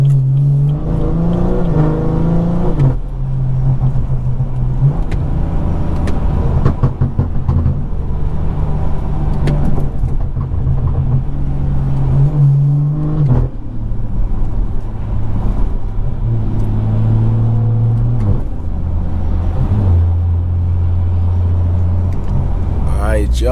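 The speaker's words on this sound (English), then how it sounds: "But this time I'm gonna just let y'all hear the car." A BMW 340i's B58 engine revs and accelerates through several gear changes on a night drive, the drone rising and dropping repeatedly, loud and close, with occasional voices over it.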